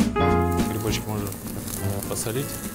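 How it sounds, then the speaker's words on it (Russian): Button mushrooms and spinach sizzle and crackle in a hot oiled pan while a person talks over the frying. "на этой же сковородке мы пожарим шампиньоны и шпинат"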